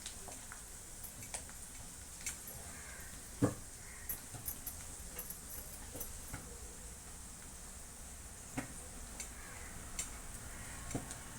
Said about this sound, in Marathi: तो आता छान परतून घेऊया कांदा छान लालसर होईपर्यंत परतायचा आहे